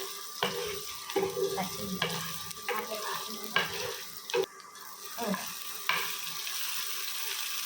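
Ginger tossed into a frying pan with onions for kara paniyaram, frying with a soft steady sizzle and close scraping stirs of a spoon in irregular strokes.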